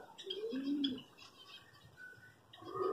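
Small finches in a breeding aviary give a few soft chirps and short calls, with a low cooing pigeon or dove nearby, moderately close against a quiet background.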